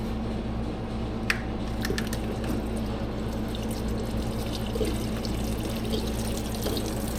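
ATV engine coolant pours steadily from a detached hose into a drain pan, a continuous close trickling and splashing with a low background hum throughout.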